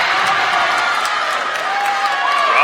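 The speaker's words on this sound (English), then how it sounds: "Teams on the bench cheering her on." Bench players and a crowd cheer at a high school girls' varsity basketball game between Oregon and Burlington, a steady, loud wash of voices and clapping filling the gym throughout.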